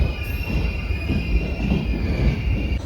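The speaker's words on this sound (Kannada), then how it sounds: "ಪ್ಲ್ಯಾಟ್ಫಾರ್ಮ್ ನಂಬರ್ ಒನ್ಗೆ ಬಂದು ತಲುಪಿದೆ ನಮ್ಮ ಟ್ರೈನ್" A train rolls into Bantwal station platform on the Yesvantpur to Mangaluru line with a steady rumble and a thin, sustained wheel squeal, loud and close, with no voices.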